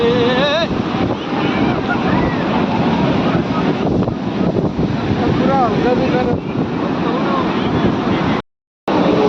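Waves at Juhu Beach in Mumbai roll in as a constant loud wash of surf mixed with heavy wind rumble on the microphone, with voices faintly audible underneath.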